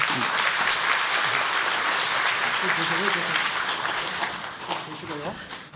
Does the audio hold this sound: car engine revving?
no